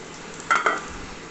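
Tempering spices crackle in hot oil in a short, sharp burst of sizzling with a quick second spatter, over quiet kitchen background noise.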